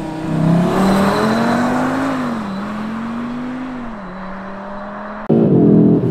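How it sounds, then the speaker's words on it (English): Audi RS3 8Y launching under launch control, a loud five-cylinder engine rising and falling through quick gear changes with a whirring pitch sweep, then a sudden louder burst near the end, no talking. "Do a little launch here."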